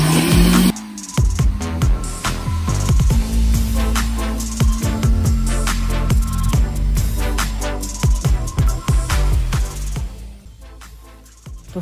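Car engine revving hard while the car is driven out of snow, loud sustained roaring with rising and falling throttle and tire spin, close by, no talk.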